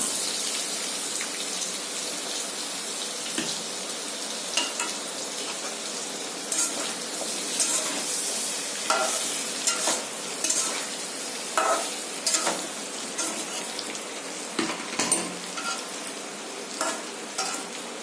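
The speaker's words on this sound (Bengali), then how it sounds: "এবার কচুগুলোও ভেজে নেব।" Taro (maan kochu) pieces frying in hot oil in a pan, a continuous close sizzle with irregular louder crackles and spatters building toward the end.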